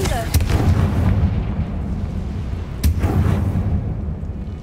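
The Confringo fire spell exploding in Hogwarts Legacy, two sharp blasts about two seconds apart, each followed by a booming rumble, set against loud game background noise.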